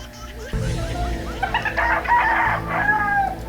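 Close by, a rooster crows once, a long rising and falling cock-a-doodle-doo, over a steady low background hum, with some chicken clucking mixed in.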